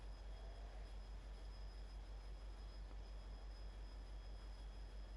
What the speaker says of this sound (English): that's the train that I used